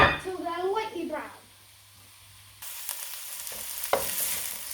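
Chopped onions hitting hot oil in a pan, a sudden bright sizzle that settles into steady frying with a few stirring scrapes, following a stretch of talk at the start.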